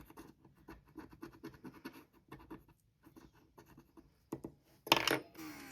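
Scratcher stickers on a savings challenge sheet are rubbed off in quick, close, quiet scraping bursts with short pauses, ending in a louder rasping flurry.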